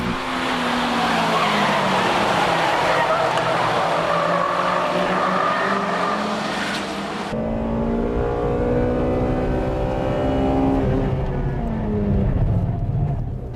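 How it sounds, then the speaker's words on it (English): A Honda Integra Type R with a VTEC engine revving hard through sharp corners on a race circuit, its high-pitched engine wail overlaid with squealing tyres, loud and continuous throughout. "Wow, what a sharp corner entry. I love this VTEC."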